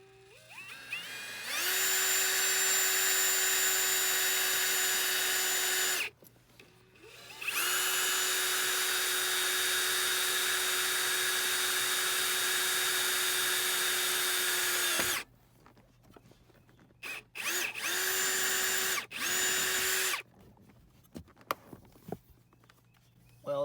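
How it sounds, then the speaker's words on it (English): A power drill whirs in long sustained bursts while drilling holes for foot pedals in an Acura NSX, about four runs separated by short pauses, close and loud with small knocks between. "It's going to be really difficult to drill those top ones."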